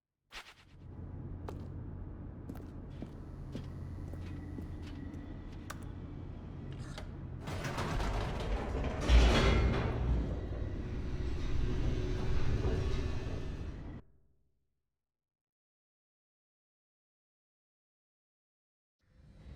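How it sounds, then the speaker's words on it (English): Elevator descending in the video game The Stanley Parable: a steady mechanical rumble with creaks and clanks builds louder midway, then cuts off abruptly to silence near the end. "The elevator raced downward, plummeting towards an unknown fate."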